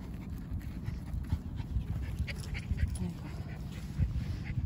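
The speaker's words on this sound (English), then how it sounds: "Two dogs." Two dogs panting at Gaetgol Park in South Korea, with rapid, steady, close breathing that carries on throughout over outdoor background noise.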